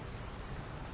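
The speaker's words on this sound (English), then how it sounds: "It's raining." Video game rain falls as a steady, dense patter with a broad hiss, constant and moderately loud for about a second, with no speech.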